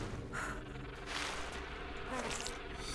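Insistent buzzing of swarming bees in Tomb Raider 3, rising and falling in fuzzy drones as the insects swoop close, fairly faint and heard alone without speech.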